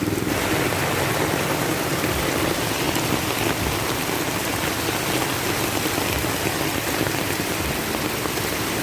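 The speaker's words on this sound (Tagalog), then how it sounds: "napakalakas talaga ng ulan" Heavy rain pours down steadily in Bagumbong, Caloocan, a dense loud roar of drops on surfaces with no pauses and no voices.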